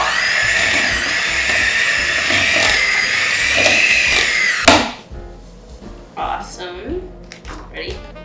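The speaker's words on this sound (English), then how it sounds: "I'm gonna use my trusty very old hand mixer" A very old electric hand mixer whirs steadily through cake batter for several seconds, then cuts off abruptly, followed by quieter clatter and a person speaking.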